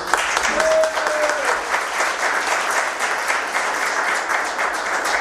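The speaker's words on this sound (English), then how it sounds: "Round of applause for him, please." Audience applause at a ward council debate, a steady crowd of hand claps that continues throughout at a fairly even level without a break.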